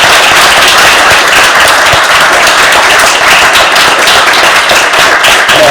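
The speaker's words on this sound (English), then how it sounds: "should we give him a round of applause from his family?" A memorial lecture audience gives a loud, sustained round of clapping, dense and continuous at close range throughout.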